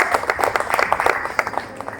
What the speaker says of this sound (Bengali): একটা জোরে হাততালি হয়ে যাক।